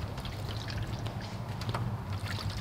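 Faint water trickling and dribbling in short irregular spurts out of the grille of a Nissan Titan XD truck, over a low background hum.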